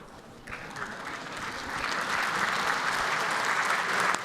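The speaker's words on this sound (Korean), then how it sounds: "여당 의원들이 지금 박수로 환호하고 있습니다" Ruling-party lawmakers in South Korea's National Assembly chamber applaud as President Lee Jae-myung enters, a broad wash of many hands clapping that builds and holds steady at a distance, with no speech.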